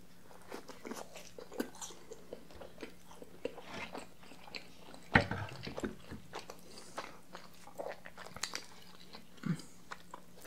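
Garlic bread bites are chewed up close, soft crunches and moist mouth sounds repeating irregularly, with one louder bite midway, all quiet and intimate.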